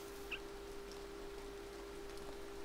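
Steady soft rainfall in the pixel-art game A Bird Story, a continuous faint patter with a constant tonal hum from the soundtrack underneath; no one speaks.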